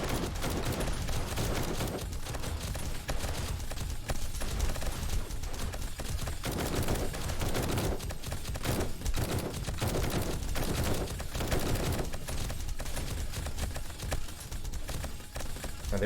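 Automated turrets in 7 Days to Die hammer away at a zombie horde, unloading sustained, dense rapid gunfire for the whole stretch with only brief dips in intensity.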